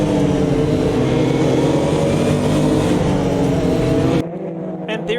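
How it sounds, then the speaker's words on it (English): Long-tail McLaren GT1 race cars in a video game roar loudly and steadily at high revs, then the engine note cuts off abruptly near the end, leaving a quieter drone. "These long-tail McLarens would have to be one of the few race cars that are detuned from their road-going version"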